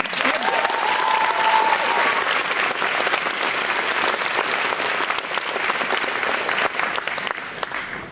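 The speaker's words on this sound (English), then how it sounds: "Let's give them a round of applause" Loud sustained applause from a large audience at a secondary school graduation ceremony honoring the staff, a dense unbroken wash of clapping that holds strong throughout with a faint tone briefly audible early on.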